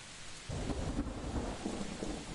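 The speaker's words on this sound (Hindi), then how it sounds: "धीरे धीरे बारिश भी हो रही थी" Rain pours down steadily while a low rumble of thunder rolls through, fairly quiet and distant, with no voices.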